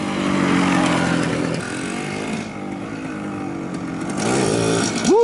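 A 1970 Honda Z50 minibike engine revs hard during a wheelie, a loud buzzing small-engine whine that drops off midway, then climbs again near the end as the bike passes close by.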